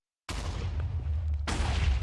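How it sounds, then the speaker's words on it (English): Minecraft explosion, a sudden loud boom bursting in after brief silence, rumbling on with a deep low roar and a second sharp blast near the end. "That was a pretty effective explosion."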